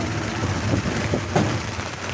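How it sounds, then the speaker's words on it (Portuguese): Rain falls steadily during a storm by the Tarumã Mirim river, a continuous close hiss with soft scattered patter and no voices. "Olha a chuva aí, tio."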